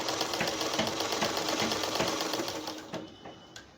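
A sewing machine stitches gota patti trim onto a scarf, its rapid motor whir running steadily and loudly before winding down to a stop near the end.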